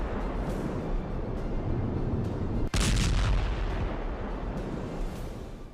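Russian FAB-3000 three-ton bomb blasts in Ukraine: a heavy, continuous roar and rumble, broken midway by one sharp crack that is followed by a brighter surge of blast noise, then slowly fades.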